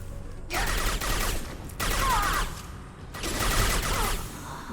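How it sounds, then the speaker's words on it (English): Rocket launcher firing in a video game: three separate loud bursts of whooshing, roaring blast noise, each lasting about a second or more, with short gaps between. "Who's shooting rockets at us?"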